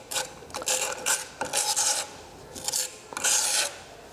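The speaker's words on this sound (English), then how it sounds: "I'll just use a different type of scraper for a moment." A scraper working resin into a gap in a concrete joint, making repeated gritty rasping strokes, five or six close scrapes in an uneven rhythm with short pauses between them.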